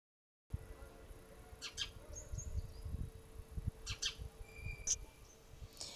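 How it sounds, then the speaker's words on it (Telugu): A lone bird calls outdoors with a few faint, brief chirps and thin whistled notes scattered over a steady, rumbling background of wind and ambient noise. "అది బాధపడుతున్నట్టుంది, ఇంకా వేరే పిట్టని పిలుస్తుందేమో అని అనిపించింది"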